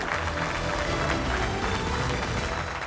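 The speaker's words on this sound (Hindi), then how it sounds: "बहुत बहुत तालियों के साथ आप तीनों का हार्दिक अभिनंदन।" A studio audience on a Hindi political debate show applauds to welcome three panel guests, a continuous even patter of clapping with some crowd murmur underneath.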